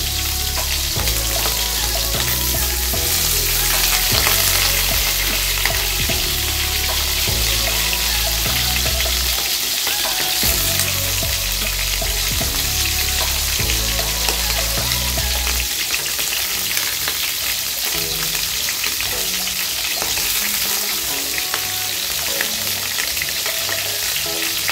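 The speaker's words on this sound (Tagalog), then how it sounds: "iprito natin itong ating karne ng baboy" Pork sizzles and crackles in hot oil in a pan for Filipino adobo, a dense, steady frying hiss with popping spatter and some scraping and stirring throughout, and no talking.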